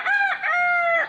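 A rooster crows once, close and loud, in a clear two-part call with a short first note and a long sustained second note, heard alone without talk.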